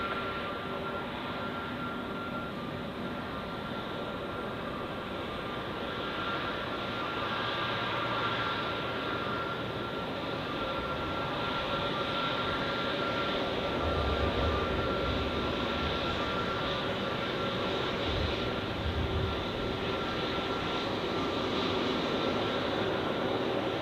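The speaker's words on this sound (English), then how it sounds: "The Condor A321neo with green stripes." Condor Airbus A321neo airliner with green stripes at Zurich Airport, a steady broadband jet roar holding for the whole stretch, loud and continuous with slight swells in the low rumble, no talk over it.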